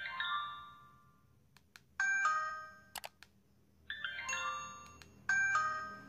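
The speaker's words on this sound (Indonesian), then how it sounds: "Tak lupa kita cek juga buat nada SMS-nya." SMS message tone of a Brandcode Cytrus flip phone from its built-in speaker, several short bright chiming note bursts separated by brief pauses and clicks, clear and alone in a quiet room.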